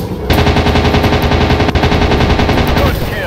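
An aircraft machine gun fires in a WW2 dogfight video game, a loud, close, sustained rapid burst lasting nearly three seconds before cutting off abruptly.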